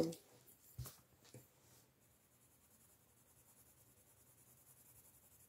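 An orange colored pencil scratches across scrap paper in soft, faint strokes after a few taps at the start, close and quiet, with a voice speaking briefly at first.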